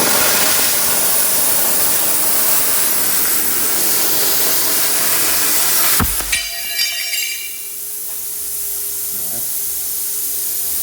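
A Silatu plasma cutter slices through 1/8 inch metal with a loud, steady broadband hiss and roar for about six seconds, then cuts off abruptly, leaving a few clicks and a faint lingering tone.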